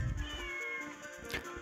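A cat meows in The Legend of Zelda game, a short, close, clear call over a steady musical background.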